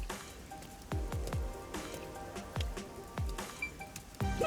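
Rain falling in the video game Master Detective Archives: Rain Code, steady soft patter on surfaces with scattered heavier drips and drops landing close by throughout.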